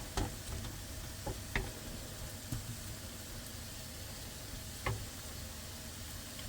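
Meat and eggs frying in a skillet, a quiet steady sizzle with a few sharp clicks and taps of a utensil, no talk.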